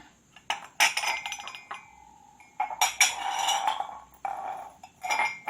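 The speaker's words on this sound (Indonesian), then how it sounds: "alat dan bahan yang perlu disiapkan adalah 5 buah gelas kaca" Five glass cups clink against each other and a surface as they are set out one by one, sharp bright taps in several separate clusters with quiet gaps between.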